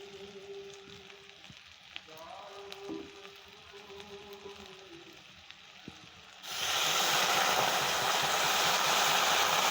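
Water poured into sautéed spices for a Bengali fish curry, hitting the hot pan with a sudden loud burst of sizzling that continues as a dense hiss after a quieter stretch of faint kitchen sounds.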